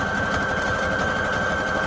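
A sewing machine runs a zigzag stitch with blue thread, a loud, steady mechanical whir with a fast rhythmic chatter and a constant high motor whine, close by and uninterrupted.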